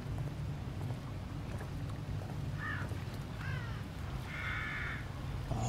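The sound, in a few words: crows cawing in video game The Evil Within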